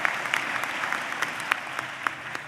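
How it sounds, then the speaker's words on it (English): A graduation audience applauds a student speaker's parents with a steady patter of clapping, individual sharp claps standing out above the continuous crowd sound. "please give them a round of applause"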